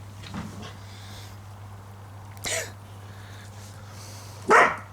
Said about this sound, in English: You pack it in, you naughty dogs.